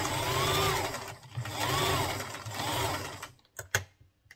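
A sewing machine stitches a seam on a fish skirt, running in three loud whirring bursts with short pauses for backstitching, then stopping with a few soft clicks and handling noises.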